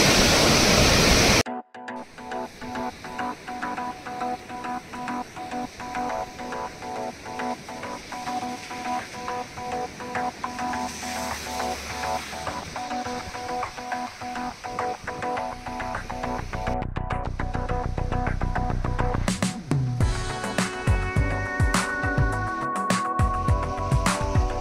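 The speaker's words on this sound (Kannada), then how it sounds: "ಅಬ್ಬಬ್ಬಾ, ಅದೆಷ್ಟು ರಭಸದಿಂದ ನೀರು ಹರಿತಾ ಇದೆ." The Bhadra river in monsoon flood rushes forcefully beneath a bridge as a loud, steady roar of churning water, continuous and close throughout, with a brighter tonal layer joining in near the end.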